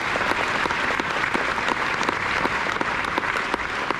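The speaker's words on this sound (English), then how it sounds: "Big round of applause for Bob." A crowd claps steadily and loudly throughout, a dense wash of applause with scattered sharper claps standing out.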